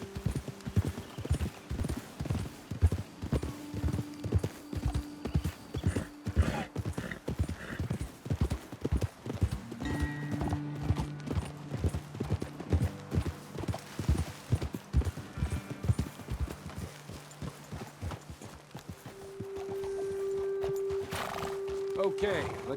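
Steady hoof clip-clop of horses walking in Red Dead Redemption 2, with occasional whinnies and low voices talking over the hooves throughout.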